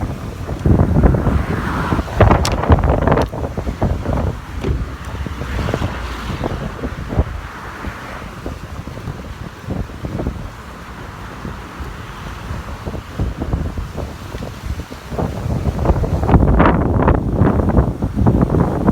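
Strong gusting wind roars and buffets the microphone outdoors, loud and continuous, easing in the middle before surging again.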